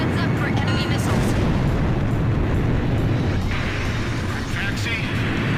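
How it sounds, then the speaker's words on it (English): A burst missile detonates in Ace Combat 5 on PS4, a dense, continuous roar of explosions and rumbling blasts filling the whole stretch with no letup, while a voice speaks over the din. "Rinfaxi launching burst missile!"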